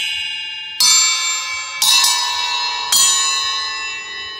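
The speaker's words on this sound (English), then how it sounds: "We got a bunch of chimes in stock. Let's hear how they sound." Wind chimes are struck in a drum and music shop. There are four loud, bright strikes, each ringing out with a long shimmering decay before the next, and no voices.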